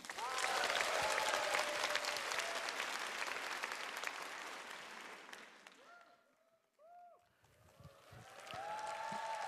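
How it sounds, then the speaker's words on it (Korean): A concert audience at a Notre-Dame de Paris stage event breaks into loud, dense applause that fades out midway, leaving a near-silent gap with faint tonal sounds before the clapping swells again toward the end. "여러분 뜨거운 박수로 함께해 주세요"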